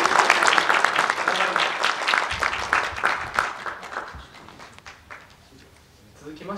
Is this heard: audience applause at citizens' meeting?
yes